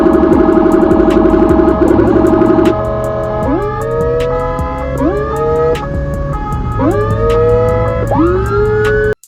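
A loud ambulance siren sweeps up and down repeatedly, close and continuous, with a steady horn-like tone underneath in the first few seconds.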